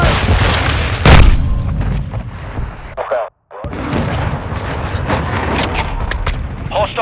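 Flashbang grenade blast in Call of Duty: Modern Warfare II multiplayer Domination, a loud boom near the start amid constant battle noise and game voice callouts, with a brief sharp dropout midway before the din resumes.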